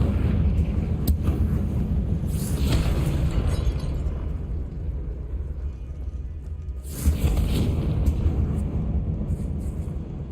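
A Confringo fire-blast spell explodes in Hogwarts Legacy, two broadband bursts about four seconds apart over a steady rumbling game ambience, loud and close.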